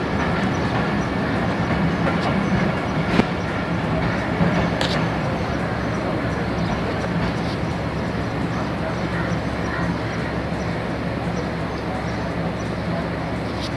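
The Shah Latif Express at Landi station rumbles steadily with rolling clatter and a few sharp metallic clicks, loud and continuous, with a voice faintly mixed in.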